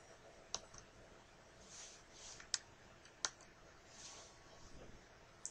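Sharp, isolated computer mouse clicks, about four spaced taps, quiet and close against a faint room hiss while navigating menus in Microsoft Word 2007.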